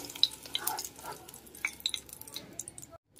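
A pair of green chilies fry gently in oil with a soft, quiet sizzle dotted by small crackles and pops, trailing off into near silence at the end.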